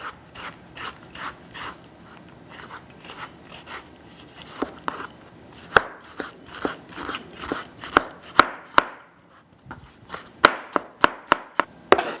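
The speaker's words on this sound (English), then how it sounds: "We're gonna chop everything small into small cubes." A knife chops tomatoes into small cubes on a cutting board for salsa, with a run of crisp, close taps that start sparse and speed into quick irregular bursts, heard alone without speech.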